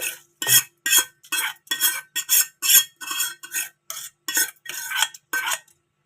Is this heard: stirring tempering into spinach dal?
yes